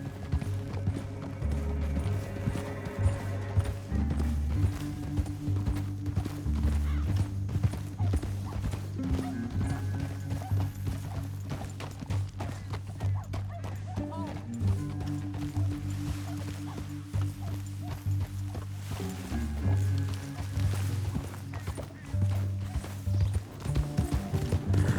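Horse hooves clop steadily in the video game Red Dead Redemption 2, a continuous galloping rhythm that lasts the whole stretch, laid over a loud, low musical score and other game sounds.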